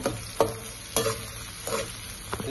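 Onions sizzle steadily in a hot pan for a Kerala-style coconut milk chicken curry while a spoon scrapes and stirs through them about four times.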